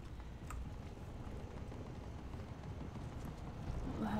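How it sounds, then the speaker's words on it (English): Footsteps in the online arena shooter Splitgate, a faint, busy patter of steps running under steady game ambience and wind-like hiss, with no clear individual footfalls standing out. "I keep hearing footsteps, but then nobody appears"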